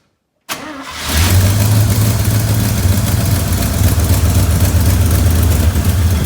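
An old truck engine with a carburetor, cold and running on choke, starts up after a brief silence and settles into a loud, steady, rumbling run that continues to the end.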